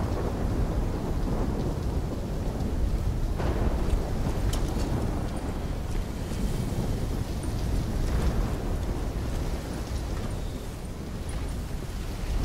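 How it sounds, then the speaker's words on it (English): A thunderstorm in Call of Duty: Black Ops III, with continuous heavy rain and wind and loud rolling thunder building and fading over several seconds, no speech. "trying to grab everything they can before the worst of the storm hits."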